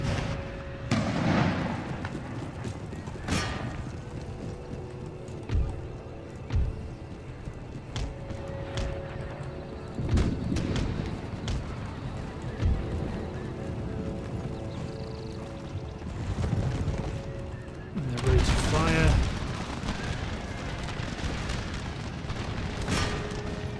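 Cannons fire round shot during a battle in Empire: Total War, scattered deep booms rising from a constant rumbling battlefield din, with a heavier burst of blasts near the end.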